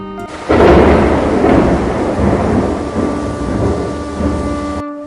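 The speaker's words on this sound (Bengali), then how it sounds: "বজ্রপাত" A loud, close thunderclap crashes in and rolls into a long, deep rumble over steady rain, as a sound effect in a Bengali audio drama.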